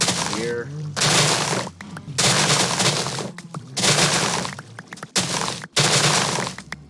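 Sugarcane being cut down in a Minecraft-style block game, several broad crunching bursts in a steady rhythm, loud and close.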